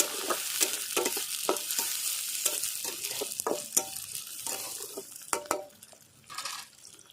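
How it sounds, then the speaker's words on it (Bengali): Chopped onion and green chili fry in a pan for a Bengali leafy greens dish, crackling sizzle with repeated scraping stirs of a spatula, close and fairly loud, easing off at the end. "এরপরে দিয়ে দেবো পেঁয়াজ কুচি লঙ্কা একসঙ্গে দিয়ে দেবো সব ভালো করে ভেজে নেব একটু"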